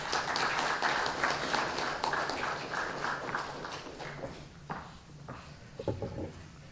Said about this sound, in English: let's give a round of applause and welcome Dr.